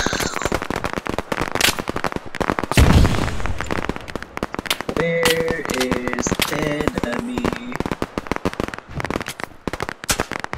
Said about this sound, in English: this is the moment where airstrike has been used